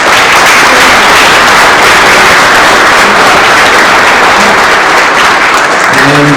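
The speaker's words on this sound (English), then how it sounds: "let's have a big round of applause for everybody here today" A full room at a track and field Hall of Fame induction banquet gives a loud, sustained round of applause, dense clapping that stays strong from start to finish.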